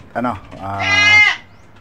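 A red Anglo-Nubian goat on a farm gives a single close, loud bleat that rises into a long wavering cry, then stops.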